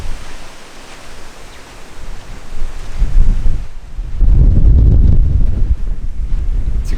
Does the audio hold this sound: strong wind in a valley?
yes